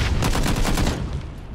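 Rapid suppressing gunfire in the battle royale game PUBG Battlegrounds, a dense burst of shots in quick succession that tapers off toward the end, with no talk.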